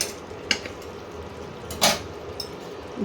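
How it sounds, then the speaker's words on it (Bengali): A metal lid is set onto a cooking pot while a Bengali tangra fish curry simmers, giving a couple of brief clanks against the rim over a quiet kitchen background. "আবার ঢাকা দিয়ে দিচ্ছি"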